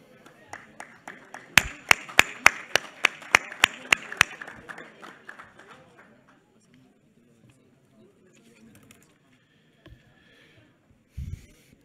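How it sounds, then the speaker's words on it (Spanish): Sparse, sharp hand claps from a small group in a congressional chamber, honoring a figure on a legal code anniversary. About a dozen distinct claps over a few seconds, then quiet room noise with a faint voice and a thump. "Despedimos con un fuerte aplauso al homenajeado."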